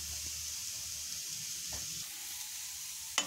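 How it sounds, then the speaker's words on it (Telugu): Grated carrot for Telugu carrot pachadi sizzles in a hot pan, a soft continuous hiss with faint stirring scrapes and one brief louder crackle near the end. "ఇది ఊరికే కొద్దిగా వేగేదాకా ఒక్క నిమిషం వేగితే సరిపోతుంది."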